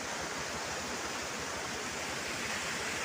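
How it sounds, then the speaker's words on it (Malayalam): Periyakanal waterfall at Chinnakanal gives a continuous broad rushing roar of falling water, even and unbroken, with no voices over it. "നമ്മൾ പെരിയ കനാലിൻ്റെ താഴെ ഇതുണ്ടോ വെള്ളച്ചാട്ടം എൻ്റെ തൊട്ട് മുകളിൽ."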